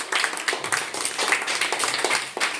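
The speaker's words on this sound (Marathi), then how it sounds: "राजवीरने टाळ्या वाजवा त्याच्यासाठी" Scattered hand clapping for a child who solved a puzzle of moving three sticks to make three squares, a few people applauding fairly close in a steady patter for about two seconds.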